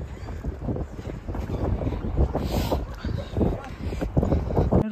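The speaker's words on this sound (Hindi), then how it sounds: "बहुत गंदे वाली हवा चली हुई है" Strong gusty wind buffeting a microphone outdoors in Leeds city, a continuous low rumble with surging gusts throughout.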